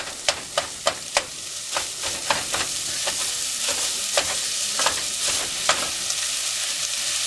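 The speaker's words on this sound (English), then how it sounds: "I like to just brown it up kind of slowly" Jimmy Dean sausage browning slowly in a frying pan, with a steady close sizzle broken by a string of sharp clicks and scrapes from a utensil stirring and chopping the meat.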